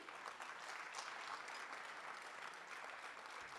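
A conference audience at an education indaba keeps up sustained clapping, a faint but dense, unbroken patter of many hands across the hall.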